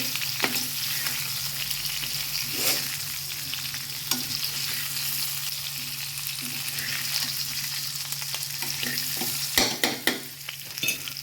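Stuffed bitter gourd frying in a pan while being stirred, a continuous close sizzle with scraping stirs and a few sharp clatters near the end, no talking.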